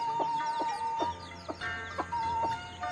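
Chickens cluck in a rural hillside home setting, short repeated calls about every half second over a steady background hum, fairly close and clear.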